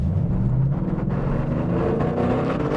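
Ford Mustang Boss 302 V8 engine droning loud and close, a dense continuous rumble with steady low harmonics and no break, heard alone without talk.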